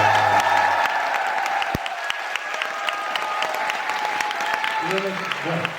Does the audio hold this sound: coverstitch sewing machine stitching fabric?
no